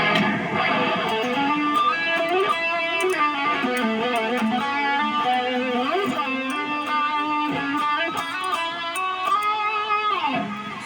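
Sweet lead tone from an electric guitar through drive pedals, with volume and tone maxed: a continuous, fluid melodic line with bends and sustained notes, slightly muffled and smooth, played steadily without talk.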